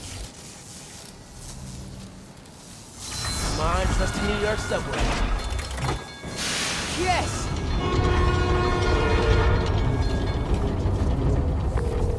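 A train in Spider-Man: Miles Morales rumbles and clatters along with horn blasts and whistling tones, growing louder after a quieter start, with a voice speaking over it.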